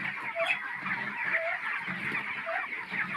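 Broiler chickens on a farm in extreme heat, a flock clucking and calling softly and continuously, with a few higher squawks standing out from the general murmur.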